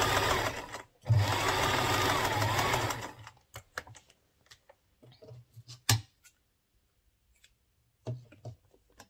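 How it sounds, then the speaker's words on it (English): A zigzag sewing machine stitches a blouse, running in a steady loud burst for about two seconds, then giving way to scattered clicks and light handling taps. "So I'm going to also use zigzag machine to run it."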